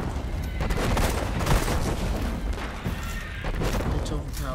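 Dense, continuous gunfire from the video game Destiny during a PS4 Dreadnaught mission, a steady barrage of shots and impacts lasting the whole stretch, loud and busy.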